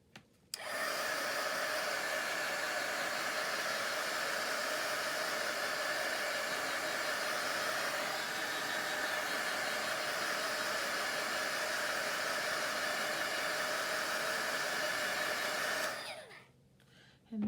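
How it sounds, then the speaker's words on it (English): A heat gun blows steadily for about fifteen seconds, a loud, even hiss-whir like a hair dryer that starts abruptly and cuts off near the end, close to the listener with no talking. "Okay, turn on this heat gun again,"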